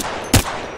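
A single sharp gunshot burst in the Apex Legends video game cracks out loudly midway through an otherwise steady, quiet background.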